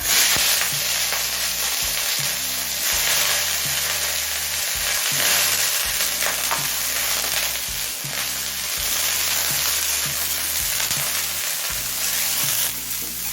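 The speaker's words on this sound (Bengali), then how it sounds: "এবার এই একই তেলে ব্রকলিটা ভেজে নেবো" Broccoli fries in hot mustard oil, the same oil just used for potatoes, giving a loud, steady, close sizzle that carries on without pause, with faint low clatter from stirring.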